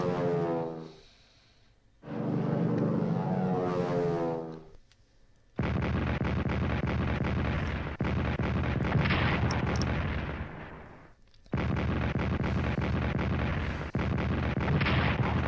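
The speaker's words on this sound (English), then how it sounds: "bombardment is on its way" Artillery bombardment in the World War I strategy game Strategic Command World War I: loud, booming explosion sound effects play one after another, several long rumbling blasts separated by short gaps, with no talk.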